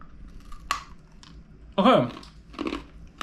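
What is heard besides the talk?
biting into crunchy freeze-dried candy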